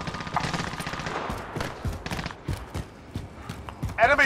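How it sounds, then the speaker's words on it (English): Gunfire in Warzone resurgence quads, rapid bursts and single shots cracking over a busy game soundscape, with someone talking over much of it and a brighter burst at the end. "Taking shots. I'm under fire."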